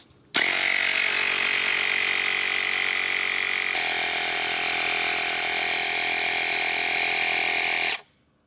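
TDW cordless tyre inflator pumping up a tyre, a loud steady motor whine starting abruptly and running continuously for about eight seconds with a slight pitch shift midway before cutting off.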